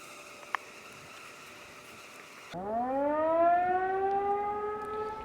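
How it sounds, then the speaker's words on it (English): Faint background noise and a single click, then a civil defense siren starts its noon test, its tone rising and swelling loudly and holding a long, wavering wail. "They blow our sirens at 12 o'clock."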